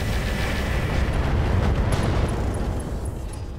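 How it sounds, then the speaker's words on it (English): Ammo explosions in the mech combat video game Roguetech, a heavy sustained rumbling blast that swells and then slowly tapers off, with no talk over it. "Okay, rack 20 ammo explosions, two of them."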